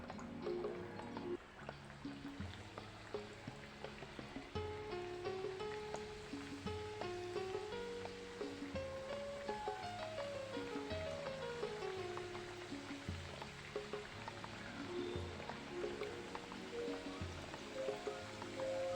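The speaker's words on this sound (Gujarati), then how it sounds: "આવી રીતના આપણે બધી પૂરીને તળી લઈશું" Wheat flour puris deep-fry in hot oil with a soft, continuous rain-like bubbling crackle, faint and steady beneath background music.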